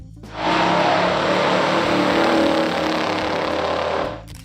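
A 1970 Chevrolet Chevelle SS 454 muscle car with a 454 cubic inch V8 roars loudly and steadily, the engine sound held at a sustained high level for about four seconds before cutting off.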